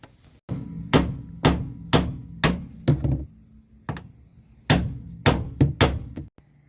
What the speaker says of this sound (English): go ahead and upgrade hammers and just hit it with a real hammer